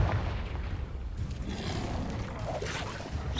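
In the Hogwarts Legacy video game, a Confringo blasting spell explodes with a dull booming burst and rumbling debris, followed by a further blast, over a noisy battle background.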